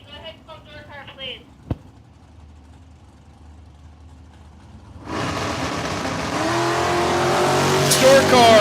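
Drag racing cars, including S10 pickups, run at Cordova Dragway on Independence Day: an announcer talks over quiet track sound, then engines roar to life midway and build into a loud, sustained full-throttle run.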